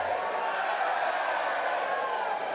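A darts championship crowd at the Lakeside World Darts Championship makes a dense, continuous murmur and buzz of many voices, with a few faint whoops, throughout a brief moment.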